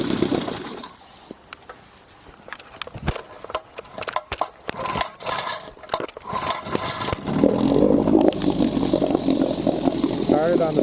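Johnson 7.5 hp outboard motor pull-started by rope: sharp rope-pull clatters and sputters, then the small engine catches and settles into a steady close idle rumble, with a voice talking over it.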